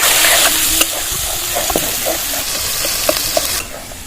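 Spice masala with turmeric, chopped tomato and green chilli sautéing in a pan for a cauliflower roast, a loud close sizzle with hissing steam and a few stirring knocks, no voices.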